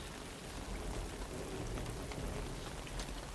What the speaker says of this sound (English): And once again, it rains